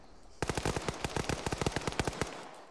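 Automatic gunfire in a multiplayer shooter game on an aircraft carrier deck rattles out in one rapid, even burst of roughly twenty sharp shots, close and loud, then cuts off abruptly.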